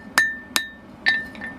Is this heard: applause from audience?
no